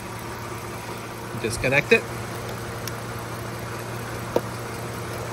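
A car engine idles steadily beside a person, its low hum running under brief speech and a few clicks and taps during the routine of switching it off and disconnecting parts.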